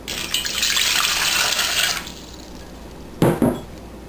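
Water poured from a measuring cup into a bread machine pan for a loaf of apple cinnamon granola bread, a steady close splashing stream lasting about two seconds, followed by a couple of light clinks of the pan.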